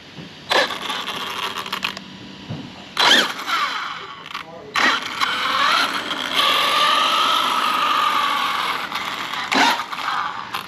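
Throttle is given on an Arrma Big Rock 6S RC truck with a faulty steering servo, producing rising and falling electric motor whines in several short bursts, close and fairly loud, with a voice speaking between them.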